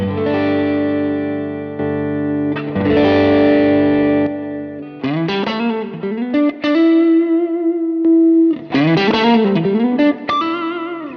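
Electric guitar through an RJM Music Overture overdrive pedal with a driven, sustaining tone plays held chords, then a lead phrase with bends and vibrato, loud and close.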